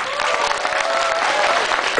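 An audience applauding at a Christmas party, a burst of dense, close clapping from a crowd, with voices mixed in.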